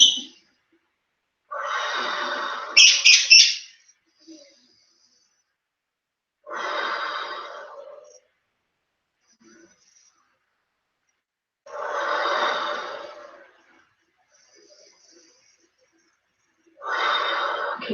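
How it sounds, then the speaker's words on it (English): Four slow, deep breaths taken while holding a wide, deep-bend static exercise pose, each a long breathy exhale separated by quiet pauses, close and fairly loud with no talking. "5 deep breaths."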